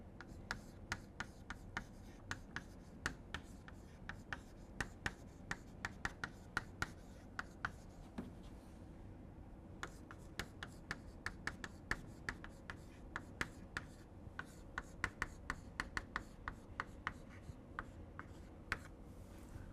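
Chalk or pen writing on a board during a lecture on numerical methods, a steady run of short scratchy strokes and taps repeating in quick irregular bursts over a low hum, with no one speaking.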